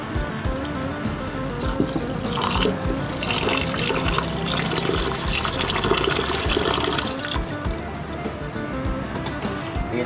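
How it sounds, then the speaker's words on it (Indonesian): Rice being washed in water for Middle Eastern kabsa, a steady close sloshing and trickling of water churning through the grains that continues unbroken throughout. "Kita cuci dulu berasnya seperti ini teman-teman ya, kita cuci bersih"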